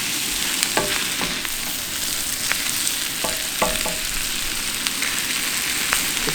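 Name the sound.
vegetables frying on a DIY discada for fajitas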